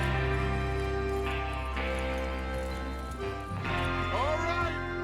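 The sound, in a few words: horses galloping in a video game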